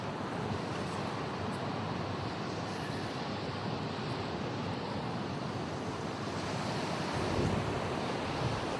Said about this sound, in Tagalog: Malaki kasi ng alon guys.